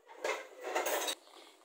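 Dishes and metal cutlery clatter and clink for a second or so as a spoon is picked up in a home kitchen during cooking, alone with no voices.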